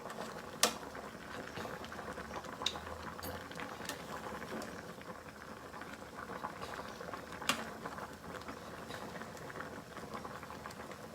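A pot of milkfish soup with spinach bubbles at a low, steady simmer, soft gurgling and popping running continuously with a few sharper clicks.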